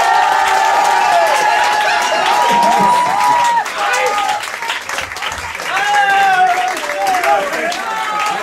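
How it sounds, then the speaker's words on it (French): Loud audience applause with cheering and crowd noise at a live event, sustained throughout with a brief dip midway, while voices call out and squeal above the clapping. "On les applaudit."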